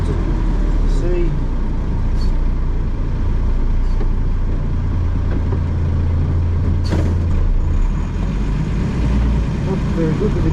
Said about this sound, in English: Not very good with the gearbox today.